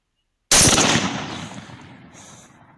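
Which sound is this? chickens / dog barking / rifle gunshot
rifle gunshot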